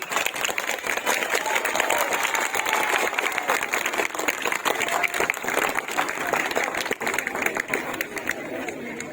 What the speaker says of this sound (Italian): Siamo qui con tutti i bambini, le autorità, un applauso!